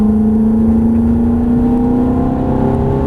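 Ferrari 430 accelerating on the Prestwold track, a loud, close engine note climbing steadily in pitch as the revs build, alone without talk.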